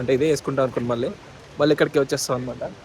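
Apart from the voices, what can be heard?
No everyday noise stands out behind the speech.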